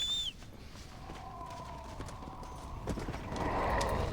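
A horse in the Red Dead Redemption: Undead Nightmare video game runs with steady clip-clop hoofbeats, opening with a brief high whinny, the galloping hooves continuing at moderate volume and growing slightly louder toward the end.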